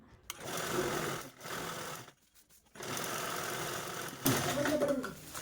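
A sewing machine runs in steady bursts as it stitches a zip onto old cloth, with a brief pause in the middle and faint handling noises around the motor.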